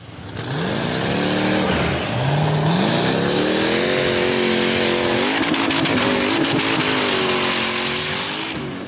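A gray off-road buggy climbs a tall, slippery forest dirt hill, its engine loud and near, revving up and down in rising sweeps with tire scrabble, alone without talk.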